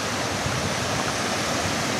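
Water flowing steadily at an outdoor spot where salmon are fished, a constant close broadband rush like a stream or small waterfall, with no voices.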